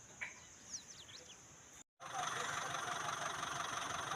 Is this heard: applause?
no